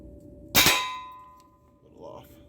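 A single sharp metallic crack from an AEA HP MAX air rifle, loud and close, followed by a ringing tail that decays over about a second, then a faint thud or impact further off.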